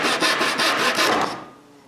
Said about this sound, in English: I sand the hard glue of the joint before doing anything else.